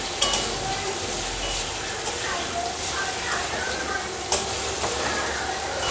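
Parboiled potatoes dropped into a spice paste that has been fried down, frying with a steady broad sizzle and a few sharp stirring clinks, under faint talk.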